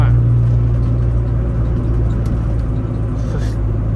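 A Honda Civic's single overhead cam engine drones loudly from inside the car with a low, buzzy rumble that swells and settles as it pulls through the gears, and a voice talks over it.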